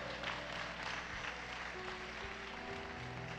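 Applause at a church service in Spanish, a steady dense wash of hand claps running throughout, loud and continuous with a low musical hum underneath.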